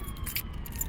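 Keys jangle in a pocket outside on a street in Dartmouth before getting into a car, a brief, close metallic rattle with a few bright clinks over steady street background.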